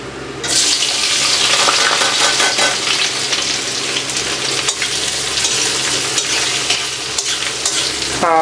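Onion frying in hot oil with bay leaf, cardamom, cinnamon and cloves, stirred steadily: a loud, continuous sizzle with scraping strokes that begins abruptly as the onion hits the pan and carries on without voices.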